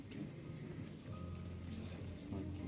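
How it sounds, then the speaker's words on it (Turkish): Heavy rain pouring outside, a dense continuous hiss and patter with a low rumble underneath, steady and moderately close throughout. "Çok yağmur yağıyor dışarıda."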